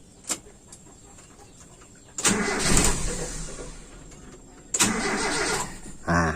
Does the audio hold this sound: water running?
no